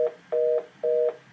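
A phone ringing during a recording, a steady electronic tone sounding in repeated long bursts with short gaps, clear and close with no talk.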